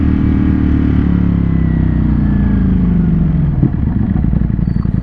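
A Ducati Streetfighter V4S motorcycle engine runs loud and close while riding, a steady low rumble with shifting harmonic tones and a brief dip near the end.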